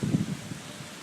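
Heavy rain pours down outdoors by a retention basin during a 2013 flood, a steady close hiss with a low rumble that fades slightly over about a second, with no talk.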